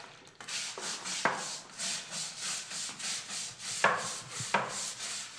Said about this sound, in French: Prenez pour cela une brosse dure et frottez le banc complètement.